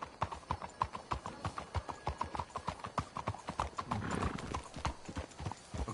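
Horses' hooves clip-clop in a video game, a brisk rhythmic run of close hoofbeats with a short whinny midway, fairly quiet overall.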